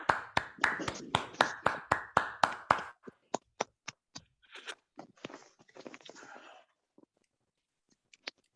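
A Zoom audience at an Indigenous Peoples' Day poetry reading claps: a fast burst of sharp, close claps, then sparser scattered claps with faint cheering, trailing off into a few last isolated claps.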